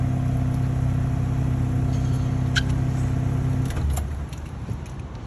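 A 1991 Mazda Miata (Eunos Roadster) drives along, its engine humming steadily and close, then dropping away to a lower rumble near the end, with no talk.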